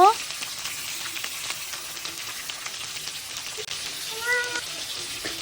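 Hilsa fish pieces frying in mustard oil produce a continuous close sizzle and crackle, with a faint cat meow in the background.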